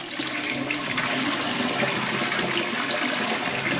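Water gushes steadily from a bathtub tap into the tub for a bath bomb demo, a loud continuous splashing rush with no talking.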